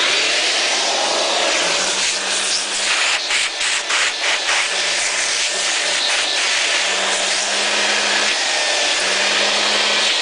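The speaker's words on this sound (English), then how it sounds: "this shop vac is kind of quiet" A shop vacuum runs with a steady, loud broadband whoosh. A faint low hum rises and falls intermittently beneath it.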